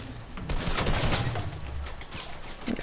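Video game gunfire crackles in rapid, uneven bursts at a loud, close level, mixed with other busy game effects.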